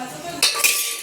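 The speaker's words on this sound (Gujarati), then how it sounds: "તો આપણે હવે એના હલાવી દઈએ ચમચા હારી" A metal ladle stirs an onion mixture in a pot while pigeon peas are cooked, making two sharp scraping clanks close by, followed by a lingering metallic rattle.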